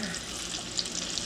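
Polish kielbasa sausage browns in a pan, its rendering grease giving off a steady, dense sizzle and crackle heard up close, with no talking.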